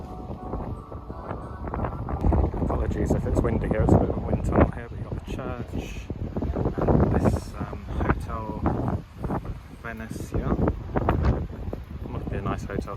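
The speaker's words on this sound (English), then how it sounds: "Apologies if it's windy here, it's a bit of a wind tunnel here" Gusty wind buffets the microphone in rumbling bursts while a person talks over it outdoors in Benidorm's old town.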